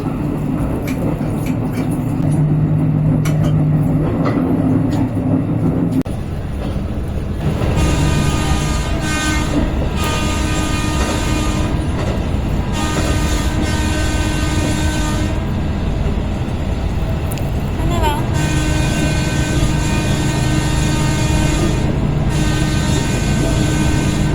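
A passenger train running on the line to Bago, Myanmar, with a loud continuous rumble of wheels and carriages throughout and repeated horn toots sounding up close over the din.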